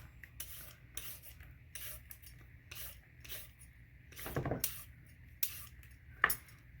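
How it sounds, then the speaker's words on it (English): Carrots peeled with a hand peeler, a series of short, quiet rasping strokes in an irregular rhythm, close and faint, with no talking. "I like to peel all my carrots"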